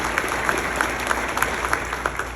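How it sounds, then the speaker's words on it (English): An audience at a first responders appreciation breakfast applauds steadily, a dense even patter of many hands clapping for the whole stretch. "Give them another round of applause."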